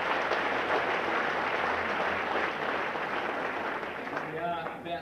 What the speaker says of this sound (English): Let's give them one final round of applause and wish them all the best